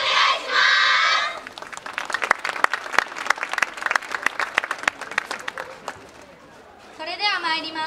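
Audience applause and clapping at a Ryoma Yosakoi 2016 dance performance, a dense patter of hand claps from a crowd, moderately close, with loud talk over a public address at the start and again at the end.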